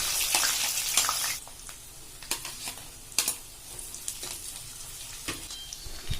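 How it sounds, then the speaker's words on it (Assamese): Onions and garlic paste fry in hot oil seasoned with cumin seeds and bay leaves, giving a soft sizzle broken by several sharp scraping stir strokes and a louder burst at the start. "পিঁয়াজখিনি অলপ ভজাৰ পিছত ৰচুনৰ পেষ্টটো দি দিব।"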